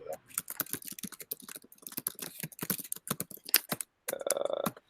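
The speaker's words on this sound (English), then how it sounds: "Can you hear me typing stuff?" Rapid clicking of a computer keyboard rattles on in quick irregular bursts close to the microphone, followed briefly by a ringing electronic tone.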